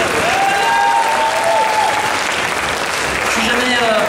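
Audience applause at the Mangame Show anime convention in Fréjus in 2016: dense, steady clapping from a large crowd, loud and sustained throughout without a break.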